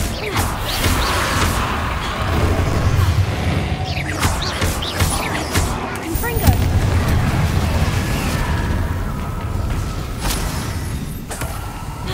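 The Confringo fire spell goes off in Hogwarts Legacy, heard as a loud, continuous blast and crackle with whooshing bursts that fill the whole stretch, mixed with game sound.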